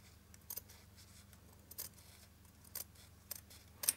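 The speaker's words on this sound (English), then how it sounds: "Now you're going to use your scissors to" Scissors snip away excess fabric on a small 4 cm kimekomi Christmas ball, five or six quiet, crisp cuts spaced about a second apart against a faint, still background.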